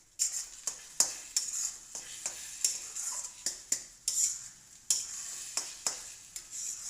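Egg bhurji, dhaba style, being stir-fried and mashed in a pan, with a spatula scraping and tapping the metal in an irregular run of sharp clicks over a steady sizzle, close and clear, without talk.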